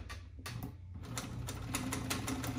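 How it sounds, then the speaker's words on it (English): A sewing machine stitching a vinyl butt seam runs in a quick, steady mechanical chatter of rapid needle strokes. It is close and fairly quiet, starting with a few separate taps before settling into continuous stitching. "So now we're gonna sew this"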